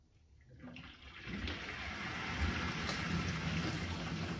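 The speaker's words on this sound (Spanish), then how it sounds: "ahora mismo está metiendo agua en el depósito" A Balay dishwasher fills its tank, water rushing in quietly and building to a steady hiss after a brief near-silent start.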